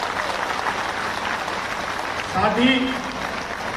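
Steady applause fills a crowded hall in Bhopal as Chief Minister Dr. Mohan Yadav is welcomed, with someone speaking loudly over the clapping through a sound system.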